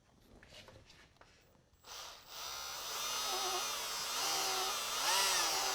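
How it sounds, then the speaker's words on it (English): Electric drill boring a 1/8 inch pilot hole through a vehicle firewall during steering column work, a steady whining motor tone that starts after a brief pause and rises and wavers in pitch as the bit cuts, close and loud. "We're going to start with a 1/8 inch drill bit to drill a pilot hole."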